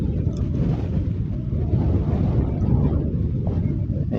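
Strong wind buffets the microphone outdoors while fishing at Angono, Rizal, a steady loud low rumble that runs unbroken for the whole stretch, with no voices.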